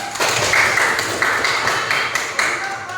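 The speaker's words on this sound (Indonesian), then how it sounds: "tepuk tangan dulu" Classroom group clapping briefly after a student group sits down during a teaching session, a dense patter of hands close by for about three seconds.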